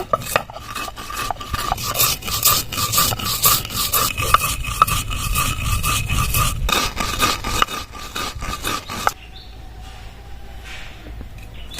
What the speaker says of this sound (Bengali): এবার মশলাটা গুঁড়ো করে নেব